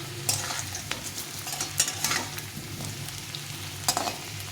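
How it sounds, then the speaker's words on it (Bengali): Potatoes frying in oil over a high flame, a continuous sizzle broken by scraping stirs and several sharp spatula clacks against the pan, with no voices. "তারপর একটু হাই ফ্লেমে দিয়ে আলুটাকে ভেজে নিতে হবে"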